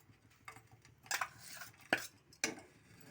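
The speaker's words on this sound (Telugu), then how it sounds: "ఇప్పుడు ఇందులో వేసుకోవాలి బెల్లం." Lumps of jaggery dropping into a heated kadai for wheat-flour bobbattlu filling, a few separate thuds and scrapes with soft clatter between them, close and fairly quiet.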